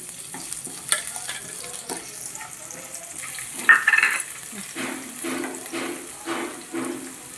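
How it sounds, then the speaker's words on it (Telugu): Ginger pieces frying in hot oil make a soft crackling sizzle close by, broken up by irregular scraping and stirring knocks and a brief louder splash of bubbling midway. "నూనె కాగినాక అల్లం ముక్కలు,"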